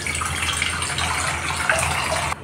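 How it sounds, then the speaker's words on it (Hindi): Water pours steadily from glasses into a kadhai for ash gourd pickle, a continuous close splashing gush that ends abruptly near the end. "2 ग्लास इतना पानी डाल लेंगे कढ़ाई में,"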